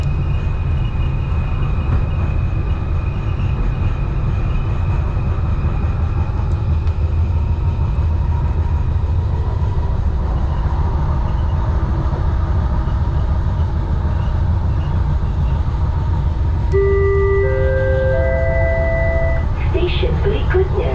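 Interior ride on a Kuala Lumpur LRT light rail train, a steady loud rumble of wheels and motors throughout, with rising electronic tones near the end as the train accelerates or brakes.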